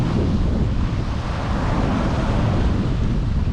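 Strong wind buffeting the microphone on the Cardiff foreshore along the Bristol Channel, a loud, constant broadband roar with surf blended into it and no breaks.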